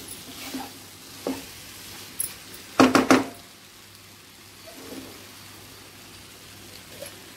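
Masala sizzles softly in oil for an aloo egg curry, a low steady fry broken by occasional stirring scrapes and a cluster of loud clanks against the pan near the middle.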